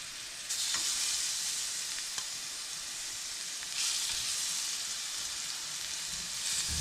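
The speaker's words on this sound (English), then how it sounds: "Get that evenly coated and start adding the chicken." Raw chicken pieces hit hot olive oil in a skillet, bursting into a loud, continuous sizzle that swells twice as more pieces are added, close and with no talking.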